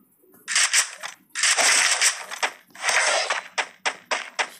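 Oil barrels explode one after another in a ranked video game match, with loud crackling blasts, some long and overlapping, followed by a rapid string of shorter sharp bangs.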